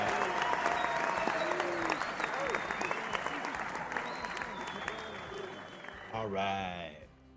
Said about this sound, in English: We'll give ourselves a round of applause for that.